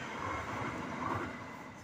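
A train passes as a steady, loud, broad rumbling roar that holds evenly throughout, with no break or fade.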